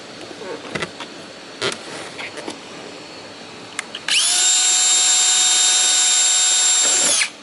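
A few faint knocks and handling sounds, then a power drill whines loud and steady for about three seconds before stopping, drilling holes through boat fiberglass.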